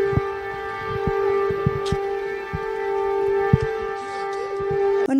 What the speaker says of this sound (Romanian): În județul Bacău sunt 240 de sirene care vor transmite semnale acustice.